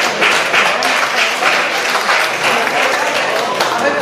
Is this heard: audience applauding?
yes